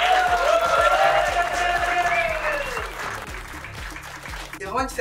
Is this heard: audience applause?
yes